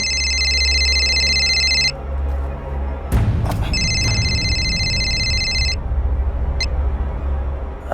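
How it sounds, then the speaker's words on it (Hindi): A loud electronic telephone ring sounds in two bursts separated by a short gap, over a low steady hum with a few clicks. "सुनिए सुनिए। हाँ? फोन।"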